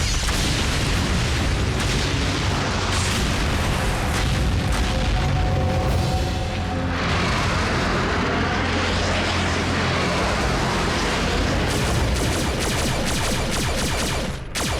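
A cartoon gas station blows up in a Hindi-dubbed Transformers: Prime episode: a loud, sustained blast that rolls into continuous rumbling, crackling destruction for about fifteen seconds, with no speech over it.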